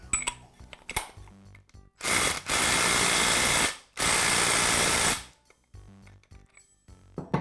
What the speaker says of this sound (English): I'll thread it onto the armature shaft, and again use the impact to secure it.